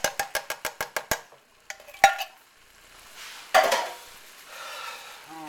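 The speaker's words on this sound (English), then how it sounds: "fun part is just mixing this all together" Chili bake ingredients being stirred together in a pot, opening with a quick run of about eight evenly spaced spoon taps on the rim, then scattered clinks and a longer scraping, sloshing stir, close and clear.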